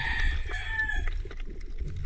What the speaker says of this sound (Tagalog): Hindi naman natigil ang manok na ito.